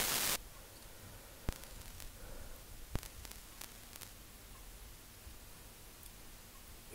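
Vinyl crackle layered over white noise, created in FL Studio Mobile, forms a steady hiss scattered with occasional sharp pops and ticks, continuous and fairly quiet after a brief louder burst at the start.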